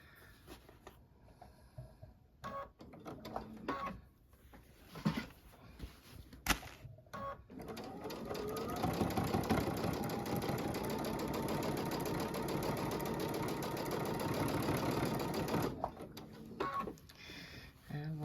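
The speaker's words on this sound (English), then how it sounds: "I'm just gonna stitch about 1/8 of an inch here, and again I'll do that on a faster mode" A sewing machine stitches a quilted snow globe wall hanging, first in short bursts amid handling clatter, then running fast and steady for several seconds before slowing back into brief runs.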